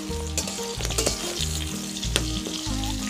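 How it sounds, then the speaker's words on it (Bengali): Raw plantain fries in oil in a pan with a steady, dense sizzle and crackle that runs throughout. Faint stirring scrapes sound now and then, with no talk. "আমার কাঁচকলাটা ভাজা হয়ে গেছে"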